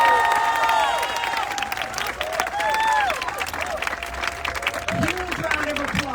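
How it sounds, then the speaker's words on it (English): A crowd at an outdoor candlelight vigil gives a sustained round of applause that carries throughout, with chatter and overlapping voices mixed in. "Huge round of applause."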